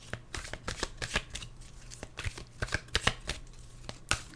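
Tarot cards are shuffled by hand at close range, a run of soft, irregular riffling slaps and flicks, fairly quiet with no speech.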